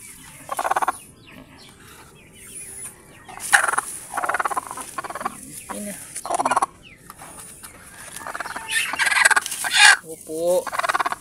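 A Rhode Island Red hen clucking near the microphone in bursts of several calls separated by quiet gaps, with some gobbling, throaty notes among them and a faint background hum.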